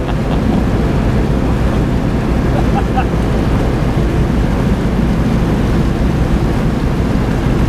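An amphibious jeep cruises along a river, giving a steady, loud low rumble of engine and water with wind buffeting the microphone throughout.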